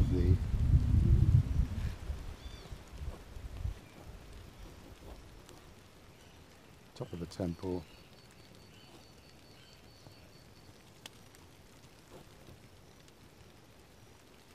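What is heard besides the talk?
rain falling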